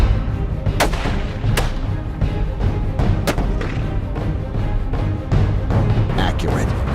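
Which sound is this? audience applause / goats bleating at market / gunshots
gunshots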